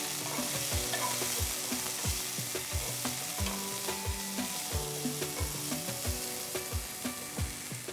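Green peas frying in garlic and green chili paste for a dhaba-style matar masala, a steady close sizzle broken by regular rhythmic scrapes and clinks of stirring, with no one talking.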